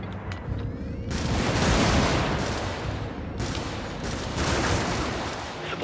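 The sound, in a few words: gunfire from video game weapons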